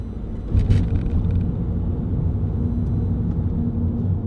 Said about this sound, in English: Really good diesel engine